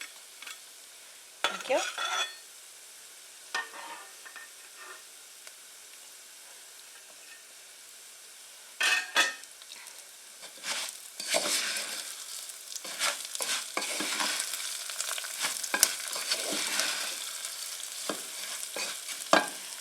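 Chopped onion frying and being stirred in a pan on a stove, faint at first, then scattered scraping bursts and a steadier soft sizzle building toward the end.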